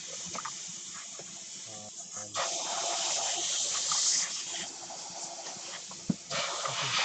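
Airbrush spraying paint onto a black T-shirt, a steady close hiss that starts and stops in bursts over several seconds, with faint background noise.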